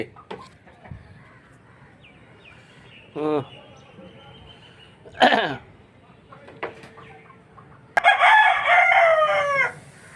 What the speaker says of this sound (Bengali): এর মধ্যেই মুরগি চেঁচাচ্ছে